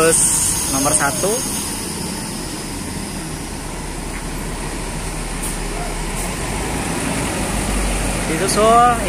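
Another Metropolitan bus idles with a steady low engine drone amid a busy departure scene. Brief tonal horn-like sweeps sound near the start and end, and voices murmur in the background.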